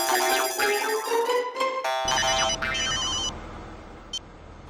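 A telephone rings during an outgoing call to a man on his way somewhere, giving repeated electronic ring tones over background music and room noise, with no one speaking.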